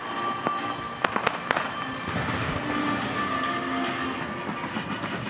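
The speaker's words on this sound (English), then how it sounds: "Look at the fireworks going off." Fireworks burst at an esports opening ceremony in a large arena, several sharp cracking pops in quick succession over a constant roaring crowd-and-venue wash.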